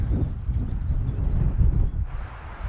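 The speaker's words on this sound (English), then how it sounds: "It's a pretty windy day today actually." Strong wind buffets the microphone in a continuous low roar on coastal clifftops at Hovs Hallar, Sweden, rising and falling in gusts with no talking.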